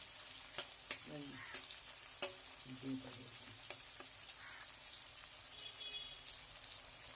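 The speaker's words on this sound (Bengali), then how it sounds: "পেঁয়াজ লাল লাল ভাজা হয়ে গেলে তবে আলুটা দেবো" Onions fry in a pan with a faint, steady sizzle, marked by a few sharp clicks of stirring early on, and a voice briefly murmurs in the background.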